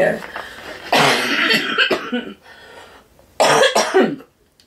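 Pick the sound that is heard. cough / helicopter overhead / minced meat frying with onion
cough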